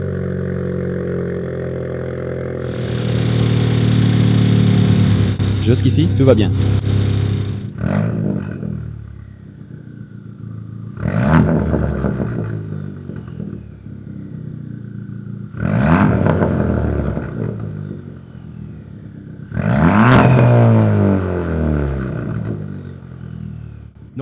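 A track car's engine cranks and fires after a radiator repair, settling into a lumpy idle broken by several sharp throttle blips, close by, with a brief spoken comment partway through.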